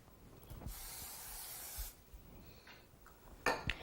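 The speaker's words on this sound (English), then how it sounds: "give it a little spray of non-stick in the bottom" A short burst of non-stick cooking spray hisses for about a second into the bottom of a pan, followed by faint clinks of metal cookware nearby.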